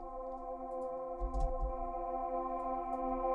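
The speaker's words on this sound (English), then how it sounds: "and you have Vox SFX sound" Vocal sound effect from a melodic techno production kit, a sustained airy synthetic vox tone holding steady with a soft low thump in the middle, played alone.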